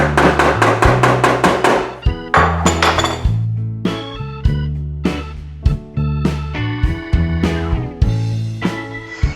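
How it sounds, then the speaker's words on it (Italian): A hammer strikes a screw on a gas cooktop in quick repeated taps, ringing sharply, in bursts with brief pauses between groups of blows. "a dare anche qualche altro colpo di martello"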